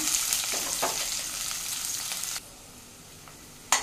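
Chopped onion, cumin seeds and kasuri methi crackle loudly in hot oil with a few stirring scrapes. The sizzle drops to a softer, quieter fry for the final second or so.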